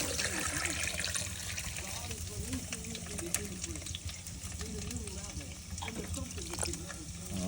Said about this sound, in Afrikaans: En hier kom die koue water.